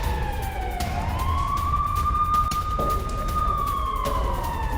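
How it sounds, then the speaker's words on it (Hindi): Air raid warning sirens sound across cities in southern Israel during a rocket alert from Gaza: one steady wailing tone rises, then holds level over constant background noise for the whole stretch. "कई शहरों में बज रहे हैं सायरन।"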